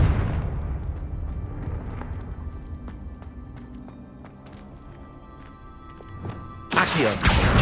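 A Confringo blasting spell explodes in Hogwarts Legacy, starting with a heavy low boom that fades into a rumbling tail with scattered clicks, then a loud burst of noise near the end.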